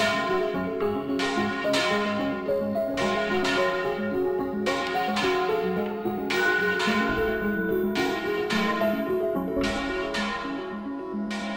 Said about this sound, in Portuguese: eu acompanhando o Nilson na hora que ele estava dobrando o sino aqui da igreja.